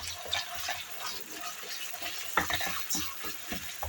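Tomato paste and carrots sauté in a pan, a close, soft sizzle broken by scraping stirs and light clicks, with no talk.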